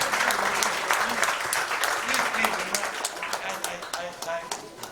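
An audience at a tech-day event in a Mumbai hotel breaks into sustained applause, a dense patter of many hands clapping that gradually thins, with a voice speaking over it.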